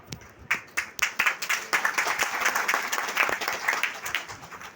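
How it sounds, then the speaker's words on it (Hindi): An audience at an Indian business seminar breaks into clapping, starting with a few sharp separate claps that quickly build into steady, close, fairly loud applause with no talk over it. "ये तालियां मेरी बेबसी पर है।"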